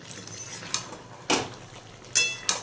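A spoon stirs Malabar spinach curry with lentil fritters in a pan, giving a few separate scraping clinks against the metal over a soft background hiss, with the sharpest knocks near the end.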